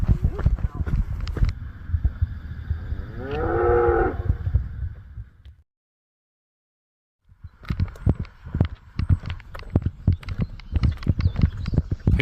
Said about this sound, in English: Hello, cows. Hey, cow.